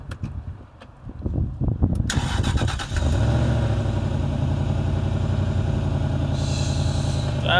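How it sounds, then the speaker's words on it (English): A Jaguar XK8 V8 cranks briefly with a whirring starter, catches and fires, then settles into a steady, fairly loud idle heard close by with no talking. "Right then, let's see if the old V8 will fire up."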